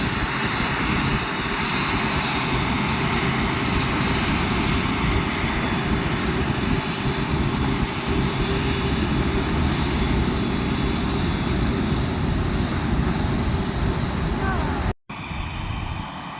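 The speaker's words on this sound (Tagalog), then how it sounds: "It's big airplane." Large Emirates passenger airplane passing overhead, a loud, sustained engine roar filling the whole stretch before cutting off abruptly near the end.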